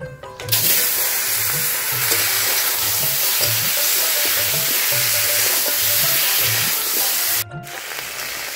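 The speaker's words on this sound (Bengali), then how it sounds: "পাঙ্গাস মাছের মাথাটা ভাজা হয়ে গেছে," Loud, continuous sizzling of a pangas fish head frying in hot oil, with a regular clinking of a utensil stirring throughout, close up.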